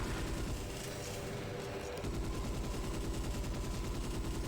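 Gunfire in the video game Ghost in the Shell: Stand Alone Complex as ammo is dumped, a dense rapid stream of shots that grows more rhythmic and pronounced after a brief lull near the middle.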